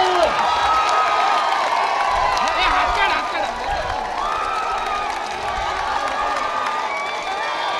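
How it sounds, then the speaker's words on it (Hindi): A dense crowd claps and cheers continuously at a foundation-laying ceremony for a school in Aurangabad, with whoops and voices mixed into the steady roar. "बजाते रहो तालियां"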